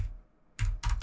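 Keys pressed on a computer keyboard while entering Python code: a few quick, crisp keystrokes close by, after a short quiet pause, with no talking.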